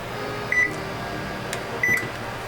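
An oven control panel gives two short, clean electronic beeps about a second apart as it is set to preheat, heard close over a steady low room hum.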